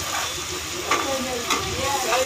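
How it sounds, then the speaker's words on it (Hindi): A tadka for moong and masoor dal sizzles and fries in a pan while being stirred, a continuous crackling hiss with a few louder scraping bursts. "अब तड़के के तैयार हो रहा है"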